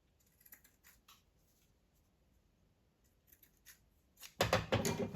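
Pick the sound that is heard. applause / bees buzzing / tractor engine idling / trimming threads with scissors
trimming threads with scissors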